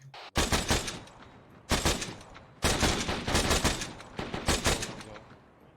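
Rifle fire in ARMA 3 at a training range. Three separate loud bursts of rapid shots come up close, each ringing out into a long echoing tail before the next.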